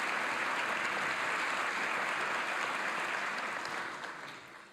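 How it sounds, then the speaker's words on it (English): A large audience applauds at an investiture ceremony, a continuous wash of clapping that holds steady and then fades away near the end. "You may now applaud."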